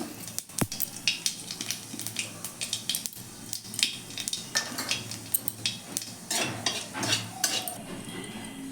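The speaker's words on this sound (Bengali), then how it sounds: "তেলটা গরম হয়েছে একটু কিছুটা কালো জিরে দিয়ে দেবো" Kitchen sounds from a pan of hot oil as nigella seeds go in, ahead of tomatoes and ground spices for a Bengali doi pabda fish curry: a soft sizzle under repeated clinks and scrapes of a utensil against the pan, close by.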